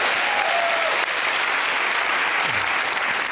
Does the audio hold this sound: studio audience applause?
yes